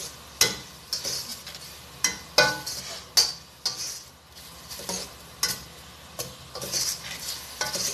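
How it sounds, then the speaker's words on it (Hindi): Prawn noodles are tossed and mixed in a hot pan over a raised flame. A utensil scrapes the pan in a steady rhythm of sharp strokes about every half second, close up and over a low sizzle. "थोड़ा सा फ्लेम मैं रेज करूंगी और इसको अच्छे तरीके से मिक्स करूंगी।"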